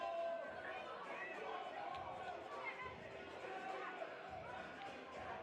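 Indoor arena crowd in Lockport at an MASL3 arena soccer match reacting with steady, dense disapproving chatter and murmuring after a blue card, a continuous wash of voices with occasional ball thumps.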